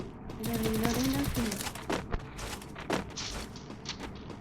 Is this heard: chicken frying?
no